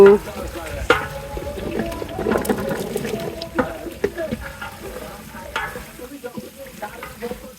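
Potatoes fry with onion and chilli in oil in a pan with a busy sizzle, while a utensil clatters and scrapes against the metal as they are stirred.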